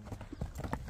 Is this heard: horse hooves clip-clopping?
yes